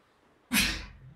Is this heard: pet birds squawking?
no